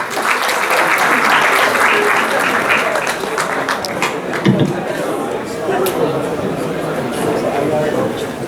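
Conference audience applauding a guest in a large hall, a sustained wash of clapping from many people, with scattered chatter and voices underneath.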